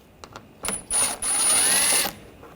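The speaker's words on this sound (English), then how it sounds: "Take these bolts out." A socket ratchet backs bolts out of a 2013-2022 Buick Encore during AC condenser replacement, giving a couple of faint clicks, then three bursts of close, buzzing mechanical whirr, the last and longest lasting nearly a second.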